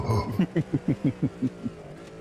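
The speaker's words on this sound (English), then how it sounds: "Quad cam V8. I think it's 5 litres, naturally aspirated." Quad-cam 5-litre naturally aspirated V8 Le Mans hypercar in a racing video game: a series of short, evenly spaced engine bursts in a quick rhythm.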